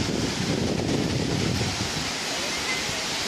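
Atlantic Ocean surf on a cloudy, overcast beach, a broad steady wash of waves with wind buffeting the microphone, fairly loud and continuous, easing slightly toward the end.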